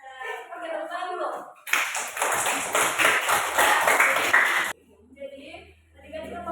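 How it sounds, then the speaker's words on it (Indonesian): Children in a classroom clap their hands together in a brisk, dense burst lasting about three seconds, loud and close, with someone speaking before and a teacher's voice resuming afterward. "Oke, tepuk tangan dulu."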